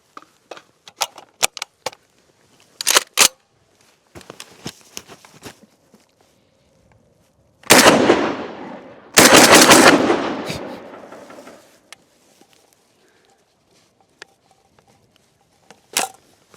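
A Serengeti AUG 12 shotgun fires two loud, sharp blasts about a second and a half apart, each trailing off in a long echo, with light mechanical clicks and handling noise before and after.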